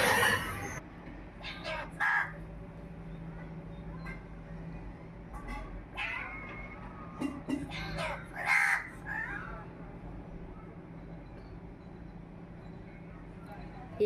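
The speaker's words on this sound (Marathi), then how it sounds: "हा कावळा खूप हुशार आहे बरं, असं छान छान काहीतरी बोलत असतो।" Several harsh caws from a clever crow, likely near its nest while feeding chicks, come in scattered bursts, some close and loud, with fainter calls between and a steady low background hum.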